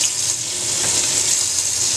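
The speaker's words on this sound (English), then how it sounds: "And then we're going to rinse the leaves." A kitchen tap runs steadily into a sink while kohlrabi leaves are rinsed, a continuous broadband hiss of flowing water that stays even and close with no voices.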